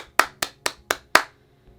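Five sharp hand claps at an even, brisk rhythm, close and distinct, followed by quiet.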